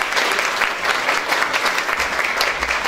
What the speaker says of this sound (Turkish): Avrasya hanımlarından hemşiremiz Huri Çoban alkışlarla davet ediyoruz.